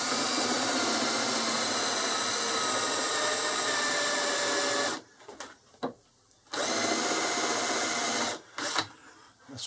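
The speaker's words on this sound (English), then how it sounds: "machine a flat on that face so I can get a good start on a hole." Milling machine cutting a flat on a cam vice handle with an end mill set at a 20-degree angle on centre, a steady loud machining whine broken by two short pauses before the cut resumes.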